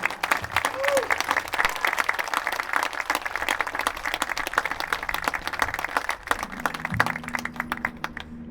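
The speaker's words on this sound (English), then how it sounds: "Please join me in offering a generous round of applause for our scholarship and award winners" Sustained, loud applause from a graduation ceremony crowd for scholarship and award winners of a high school class of 2020, dense steady clapping throughout with a voice briefly heard underneath.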